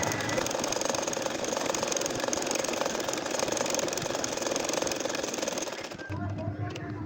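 A domestic sewing machine stitches a nakshi kantha quilt with a rapid, steady mechanical whir and needle rattle, close and continuous for about six seconds before it stops abruptly. A voice talks over the machine.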